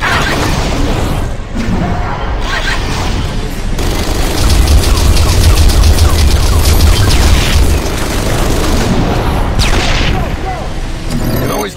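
Grenade blasts from the Section 8: Prejudice shooter, a run of heavy booming explosions mixed with rapid gunfire and crashing debris, loud and dense over about twelve seconds with game voice chatter underneath.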